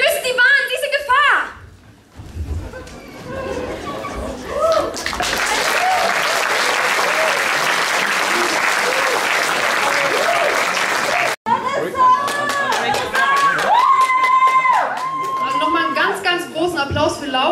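Audience applause at a youth song contest concert, a broad steady roar of clapping lasting several seconds, framed by talking and singing voices before and after.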